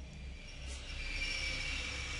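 A subway train in The Longest Journey video game rolls along with a high, sustained metallic wheel squeal over a low rumbling drone, steady and fairly close.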